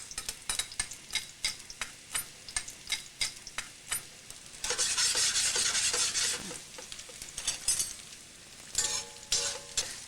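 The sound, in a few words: garlic frying in a pan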